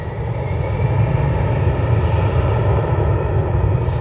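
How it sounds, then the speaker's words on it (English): A jet airliner departing Manchester Airport roars in a loud, steady, broadband rumble that holds evenly throughout, heard from a plane-spotting spot outdoors. "you actually get the sounds of the departures"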